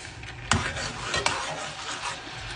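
Garlic sizzling in a pot of melted butter, a dense close crackle with two sharper scrapes of a utensil against the pot, no talking.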